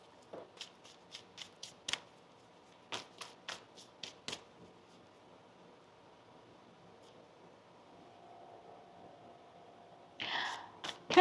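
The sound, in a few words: shuffling tarot cards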